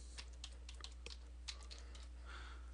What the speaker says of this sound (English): Or I can just type in my credentials. In this case, I'll paste the name and type in my password.